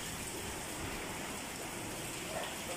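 Heavy rain during Typhoon Ulysses, a steady wash of hissing noise that stays constant and fairly faint throughout, with no voices.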